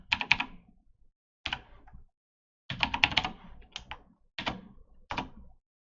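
Typing at a root password prompt on a computer keyboard, several short bursts of crisp, close key clicks separated by brief pauses.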